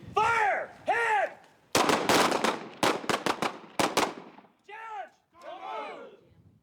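Gunshots on a military shooting range with Navy SEALs training, a rapid volley of sharp, loud cracks in quick succession, between stretches of shouted voices.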